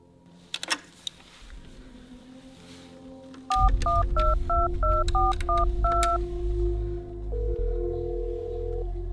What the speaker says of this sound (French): on pourrait utiliser ce téléphone noir